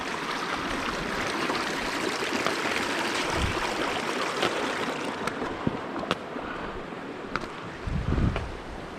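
The river flows through a Zion National Park canyon in winter as a constant broadband rush of moving water, loud and close, with occasional gusts of wind buffeting the microphone.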